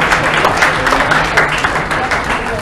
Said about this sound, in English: Can we have a round of applause for Samay?